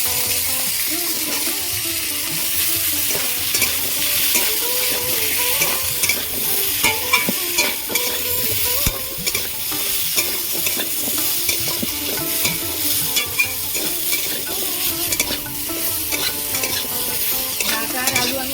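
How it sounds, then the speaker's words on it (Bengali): Potatoes and vegetable stalks fry in leftover fish-frying oil with onion and green chilli, a steady close sizzle broken by frequent scraping stirs of a spatula, with no talk. "ভালো করে ভাজা ভাজা করে নিয়েছি"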